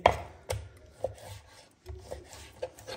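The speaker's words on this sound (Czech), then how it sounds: "Tady mám vepřovou plec, takhle si ji nakrájím, aby se mi to vešlo do mašiny" A knife cuts pork shoulder into pieces for a meat grinder, making a string of close, sharp slicing strokes and rasping scrapes against a cutting board at an irregular rhythm.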